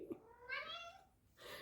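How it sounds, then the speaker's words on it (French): A house cat gives a quiet meow, a brief call near the start followed by a longer drawn-out plaintive meow and a faint final cry, heard fairly close in a calm indoor room. "même le chat essaye de communiquer"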